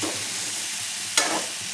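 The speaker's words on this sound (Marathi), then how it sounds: "कलर सुटेपर्यंत परतायचं आपल्याला थोडं" A spoon stirs masala spice paste frying in a pan for stuffed brinjal, giving a steady hiss of sizzling with one sharp scrape partway through, close and without talk.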